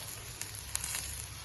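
Ingredients for fish mappas sauté with curry leaves in a hot pan, giving a faint, steady sizzle with a few small crackles.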